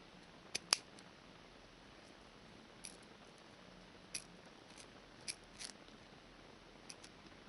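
A few sharp, quiet snips from scissors trimming the end of a paracord keychain knot, the ends singed off 3 to 4 mm from a ball-shaped knot; isolated clicks spread over several seconds in a hushed room.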